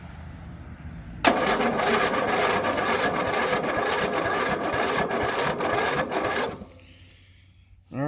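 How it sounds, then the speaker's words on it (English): An old Poulan 38-inch riding mower engine, heard as a continuous mechanical whirring and chattering that runs for about five seconds, then stops abruptly, followed by a quieter tail. "Alright, so the starter drags just a little bit, but it'll be alright. I'm not worried about it. Turned it over pretty nice."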